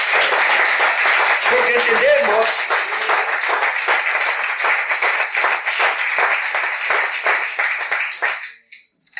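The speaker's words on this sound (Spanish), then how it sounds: "¿Podemos darle un fuerte aplauso al Señor, hermanos?" A church congregation claps hard in a sustained burst of applause that gradually thins and dies away. Someone speaks briefly over the clapping near the start.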